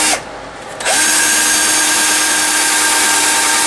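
A power drill whirs steadily through wood boards, pausing briefly near the start before spinning up again and running loud and continuous through the rest.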